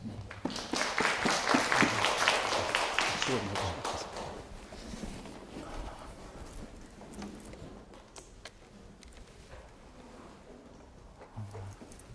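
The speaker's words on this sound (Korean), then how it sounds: "우리 박수로 환영하겠습니다" Church audience applause welcoming a speaker at a worship-music gathering, a few seconds of moderate clapping that fades out, followed by quieter room noise and soft shuffling.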